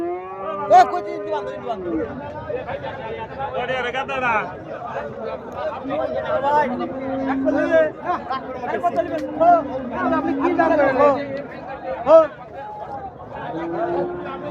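Busy outdoor crowd chatter at a large cattle market in Raiganj, Sirajganj, Bangladesh, with cattle lowing now and then among the overlapping voices.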